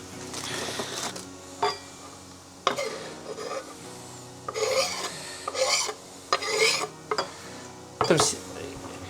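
A knife finely chops dill and parsley on a cutting board, making close, rhythmic bursts of scraping and tapping strokes separated by short pauses.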